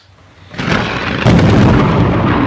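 Thunder from a lightning strike rolls in loud and close, first as a rising rumble and then as a heavy crackling crash that keeps roaring to the end, with no talking over it.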